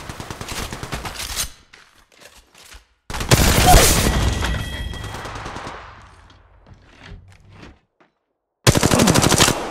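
Bursts of rapid automatic gunfire in the Apex Legends Mobile video game, loud dense rattling volleys broken by pauses, with a long roaring blast in the middle and another fast burst at the end.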